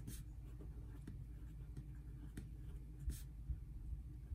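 Pen or marker writing out an exponent rule, faint soft scratching strokes over a steady low background hum, close and quiet.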